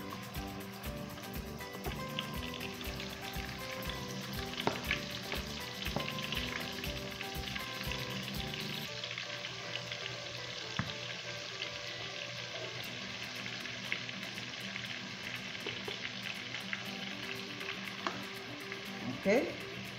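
Spicy fried chicken pieces sizzling and frying in a pan, a dense, steady crackle and hiss close up with occasional stirring clatter, the texture shifting partway through.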